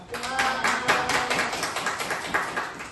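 Audience applause at an outdoor joint press conference by Korean labor unions, a dense patter of many hands clapping steadily for about three seconds, moderately loud, with a voice speaking faintly underneath.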